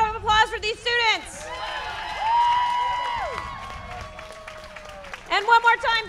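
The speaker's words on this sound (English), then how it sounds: "Let's give another big round of applause for these students." At a student performance night in a coffee house, the audience breaks into a short burst of whoops, cheers and scattered clapping between stretches of a person speaking.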